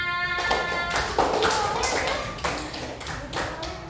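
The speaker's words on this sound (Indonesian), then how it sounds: "Tepuk tangan!" Children clap their hands in a classroom, a burst of scattered, uneven claps under a voice with a tonal, sung quality, lasting a few seconds before tapering off.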